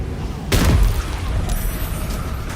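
A single loud, booming explosion goes off in the video game Baldur's Gate 3, a sudden heavy blast that rumbles and decays over the following seconds while quieter game sounds continue beneath it.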